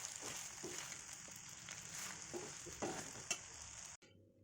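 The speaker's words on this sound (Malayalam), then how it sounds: "അടി ചേർത്ത് നന്നായിട്ട് ഇളക്കുക." Chicken parts frying in a pan while being stirred steadily, with a continuous close sizzle and several scraping clacks of the spoon, ending abruptly.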